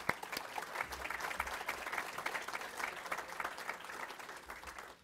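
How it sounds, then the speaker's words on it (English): An audience bursts into steady applause at a business luncheon honoring local hosts, dense clapping that sustains for about five seconds at moderate distance before tapering off. "Let's give them a round of applause."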